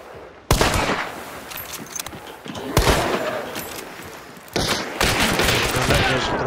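In the game Hunt: Showdown, several loud gunshots crack out in bursts, each trailing into reverberant echo. Faint talk and game ambience sit beneath the shots.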